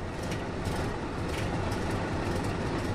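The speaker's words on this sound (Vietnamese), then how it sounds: "Cái tiếng máy nghe cũng rất là thật nha các bạn." A Sherman M4A3E8 tank engine in the Tank Mechanic Simulator video game runs as a steady, dense mechanical rumble, heavy and continuous, with no voices over it.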